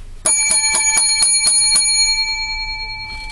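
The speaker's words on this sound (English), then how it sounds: "7 lucky bells" Seven rapid bright rings of a small bell, like a bicycle bell, strike in quick even succession and then leave a long, clear ringing decay, loud and close with no voices.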